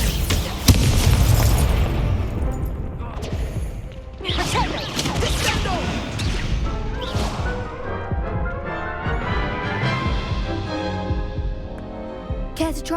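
A Confringo blasting spell in Hogwarts Legacy lands with a loud, close boom early on. More bursts and crackling follow, then a ringing tail as the blasts fade.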